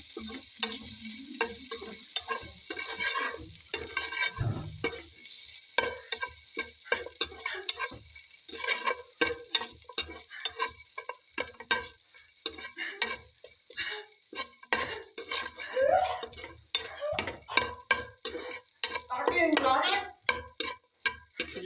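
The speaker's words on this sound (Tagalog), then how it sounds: "So, I fry for a while because this is already cooked." Chicken sizzles and crackles in a pan at length, with frequent clinks and scrapes of a utensil and occasional speech in the background.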